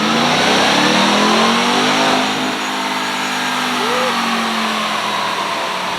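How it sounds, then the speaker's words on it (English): A stock Ram TRX pickup truck in a sandblast color revs its engine nearby, a loud, steady roar that eases slightly partway through, with a rising whine near the end. "She sounds so good. That's a stock Ram TRX."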